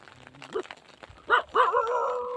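A dog gives a few short, close barks and yelps, the last drawn out into a whining howl, with no talk over it.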